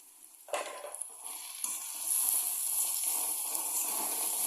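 Soaked chana dal with turmeric powder sautéing in a pan, a soft sizzle and scraping stir that grows steadier and louder after a couple of seconds, alone with no talk.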